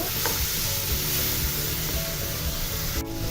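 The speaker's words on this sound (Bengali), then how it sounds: "তারপর একটু নেড়ে ফেড়ে দিচ্ছি রসুনের কাঁচা গন্ধটা চলে যাওয়া পর্যন্ত" Garlic frying in a pan while being stirred, a loud, close, continuous sizzle with scraping stirring strokes running through it.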